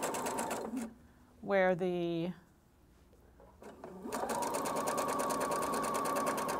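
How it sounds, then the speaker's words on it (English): A sewing machine stitches darts on a jacket in two loud bursts of running motor whir, a short one early and a longer steady run at the end, with a brief spoken remark between them. "Okay, two darts sewn, two darts down, and that's all we do in column one, is we sew two darts."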